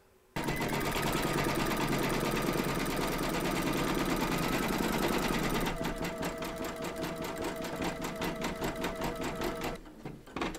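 An embroidery machine runs satin stitching on a Kreative Kiwi Busy Bee appliqué hive design, a steady fast mechanical whirring and clatter that shifts to a lighter, more rhythmic pace partway through before stopping near the end.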